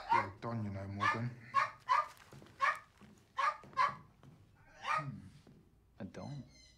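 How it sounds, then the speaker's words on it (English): A dog in a video game gives a run of short, sharp barks and yips at an uneven rhythm, close and fairly loud, with a faint whimpering edge to some calls. "A dog."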